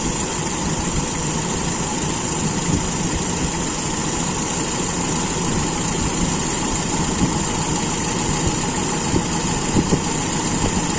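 A Toyota Kijang engine with an Aisan carburetor idles at raised RPM, holding a steady, smooth drone throughout with a constant rumbling hum and no voices.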